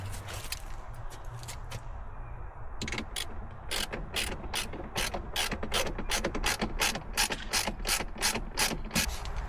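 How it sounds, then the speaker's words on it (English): A ratchet clicks rapidly and rhythmically while tightening bolts on a Ford F-150 mirror, starting sparse and then settling into a fast, steady run of crisp metallic clicks close by. "finished tightening down all the bolts"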